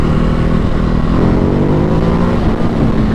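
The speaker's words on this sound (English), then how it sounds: "The noise on the standard exhaust is really good." A Ducati Hypermotard 950 SP motorcycle engine through its standard exhaust, a loud, close, continuous rumble at steady revs with a slight dip near the end, heard from the rider's position.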